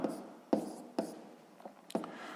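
Pen strokes on paper while a maths answer is written down by hand, four or five short scratchy bursts spaced about half a second apart, close and quiet with a faint background hum.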